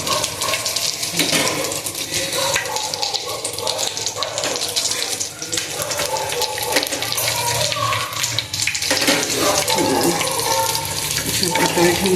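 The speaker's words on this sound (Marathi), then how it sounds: "घ्यायचं असं पाणी शिंपडा द्यायचा पाण्याचा" Water is sprinkled into a pan of gram-flour-stuffed green chillies laid cut side down, giving a continuous loud watery hiss and splashing that runs unbroken throughout.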